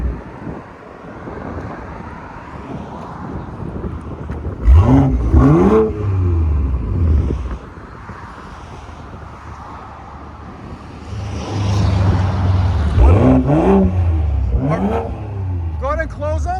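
A BMW M340i with its 3.0L turbo inline-six and exhaust valves open revs twice in sharp rising blips that fall away, amid wind noise and people talking nearby.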